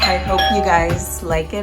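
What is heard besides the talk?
doorbell ringing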